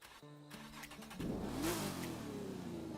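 An Aston Martin engine in a racing video game fires up and revs, rising in pitch before settling into a steady, loud idle. No one speaks.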